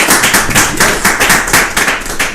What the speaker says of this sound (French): tu peux mettre l'applaudissement.